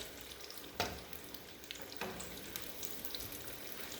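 Cheesy mashed potato balls fry in hot oil, giving a steady close sizzle broken by two sharp crackling bursts and small clatters as pieces are flipped in the pan.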